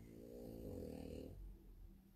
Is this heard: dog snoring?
yes